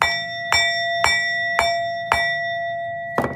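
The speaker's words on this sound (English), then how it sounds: "Y'all ready for the bell?" A bell is struck about six times in an even, half-second rhythm, each clear ringing tone sustaining and overlapping the next, loud and close with no talking.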